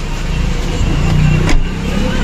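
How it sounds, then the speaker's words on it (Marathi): A car engine hums steadily close by on a road trip, with a brief swell as the vehicle moves, with voices talking faintly underneath. "गाडी आलेली, चला गाडी बसू आणि निघूया."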